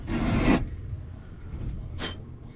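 A WRD winged trimming blade is sharpened with quick passes, two short raspy file strokes, one long and loud, then a brief second one, close by with no talking.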